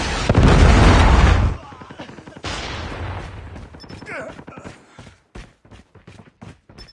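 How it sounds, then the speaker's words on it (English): A Predator missile blast rumbles loud and broad in a Call of Duty Hardpoint match, followed by scattered gunfire pops and rapid bursts that continue more quietly, with game voice callouts over the action. "Predator missile inbound."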